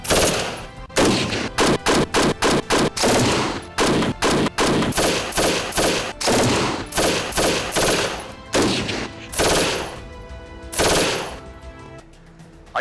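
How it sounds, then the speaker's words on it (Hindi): Rapid bursts of automatic gunfire ring out loud and close in a staged crime reenactment, volleys of shots fired indiscriminately in dense rattling strings with brief gaps between them. "बिना रोक टोक अंधाधुन फायरिंग शुरू हो गई।"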